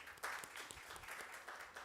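An audience at a panel on gender inequities in Uganda's creative sector applauding the research team, a faint, steady patter of clapping from a crowd heard at a distance.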